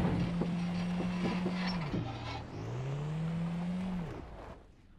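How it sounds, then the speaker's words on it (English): A noisy car engine in the Beware video game drones steadily with a low hum, dips briefly, then rises again in pitch as it revs, before cutting off near the end. "trying to follow this lady in my very noisy car"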